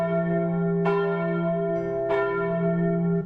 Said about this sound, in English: the bell kept ringing every day at 6 in the evening